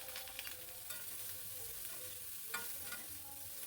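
Eggplant and onions with turmeric and Kashmiri red chili powder being stirred in a pan for a fish curry: a faint, low sizzle with a few soft scraping strokes from the spoon.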